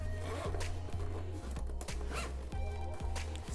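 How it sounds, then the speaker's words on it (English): A zipper being pulled shut on a planner pouch, a run of quick ratcheting rasps in several strokes, close and crisp with no talk. "zip it up"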